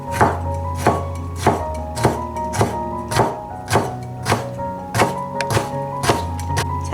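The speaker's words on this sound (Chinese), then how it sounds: "酸菜切片" A knife chops sliced pickled mustard greens on a cutting board, with about a dozen crisp, evenly spaced thunks close up. Each cut rings briefly and there is no talk.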